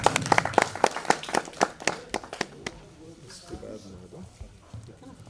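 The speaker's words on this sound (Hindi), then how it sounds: "पूर्व जिला शासकीय अधिवक्ता कुमार, एक बार जोरदार तालियों के साथ स्वागत।" A burst of scattered handclaps from an audience welcoming guests at the Tiranga award ceremony in Sahkarita Bhawan, Lucknow, sharp and dense for under three seconds, then fading into a murmuring room with faint talk.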